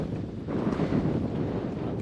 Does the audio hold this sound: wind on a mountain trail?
yes